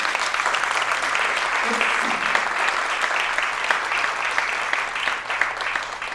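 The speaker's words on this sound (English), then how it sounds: "Can we give them a huge round of applause?" An audience applauds after a panel discussion, a full steady burst of clapping from many hands lasting several seconds with faint voices underneath.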